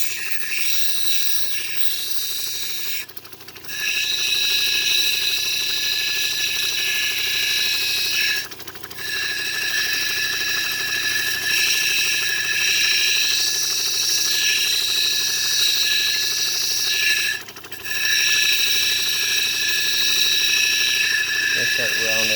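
A lapidary wheel grinds a Montana agate cabochon, a continuous high, whining buzz that dips briefly three times as the stone is lifted, with someone speaking over it.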